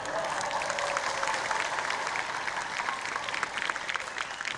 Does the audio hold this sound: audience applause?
yes